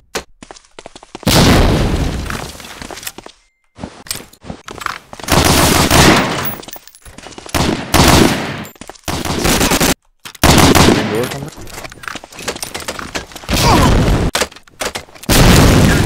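Grenade explosion and bursts of gunfire in a competitive first-person shooter match, loud and close, with rapid automatic fire coming in repeated bursts separated by brief silences, plus a heavy boom.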